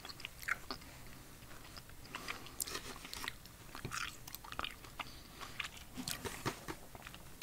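Quiet, close chewing of a very small piece of retro candy gum, with soft irregular crunches and sticky mouth clicks spread evenly over several seconds, and no talking.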